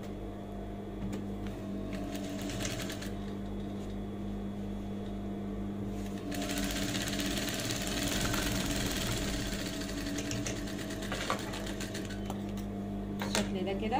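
A home sewing machine stitches the lining of a man's bag in a steady, rapid mechanical whir, stopping and starting in stretches while someone talks over it.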